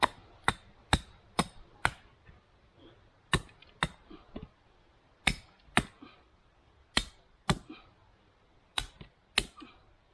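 An axe chops a wooden stake to a point outdoors, with sharp, clear strikes landing in an uneven rhythm, about thirteen blows spread over the span with short pauses between them.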